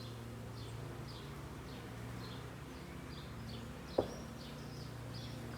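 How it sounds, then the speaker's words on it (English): Honeybees hum around an open beehive during a spring inspection, a steady low drone with a few higher buzzes passing close, and a sharp single knock partway through. "there's so many bees on the side now"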